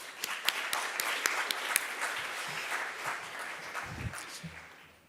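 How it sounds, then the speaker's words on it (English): A graduation ceremony audience in Barcelona applauds, with a few sharp individual claps standing out at first before the clapping thins and fades toward the end, while a low voice sounds briefly. "Big applause for everybody."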